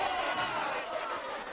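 Crowd at a girls' high school basketball game murmurs and stirs after a whistle late in a tied game, a broad, sustained wash of voices from the stands under a commentator's talk.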